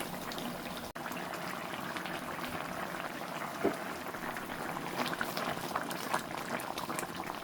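Watery hilsa and prawn fish curry boils hard on a high flame, a steady bubbling and simmering rumble broken by a few small pops and spatters.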